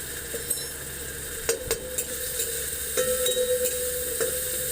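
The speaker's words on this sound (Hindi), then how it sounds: "मैं थोड़ी देर कम आंच पे इसे फ्राई कर रही हूँ" Tomato and other food frying gently in a pan over a low flame, with a soft continuous sizzle and a few clinks and scrapes of a stirring spoon against the metal.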